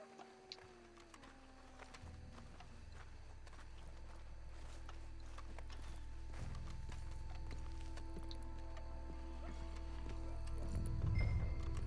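Horse hooves clip-clop in Red Dead Redemption 2, a steady soft rhythm of footfalls under a low rumbling game ambience and music, no talk.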